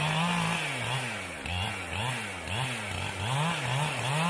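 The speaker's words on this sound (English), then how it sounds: "As I move along with my felling cut in the back of the tree" Chainsaw making the felling cut in the back of a dead tree, a loud, steady engine drone close by whose pitch rises and dips rhythmically as the chain bites into the wood, with no talk.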